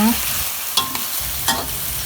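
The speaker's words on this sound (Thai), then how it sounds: "ก็ผัดคลุกเคล้าให้เข้ากันอีกทีนะคะ" Pork belly and sato beans stir-frying in a pan for a Thai basil dish, with a steady sizzle under a few sharp clacks of a spatula scraping and tossing the food.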